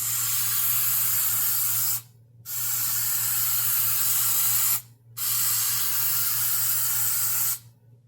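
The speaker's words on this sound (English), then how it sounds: "Now we're going to coat it down with some Minwax polyacrylic spray just to give it a good shiny top coat." Minwax Polyacrylic spray coats a wooden welcome sign in three steady, loud hissing bursts, each lasting about two seconds and separated by short pauses, over a low constant hum.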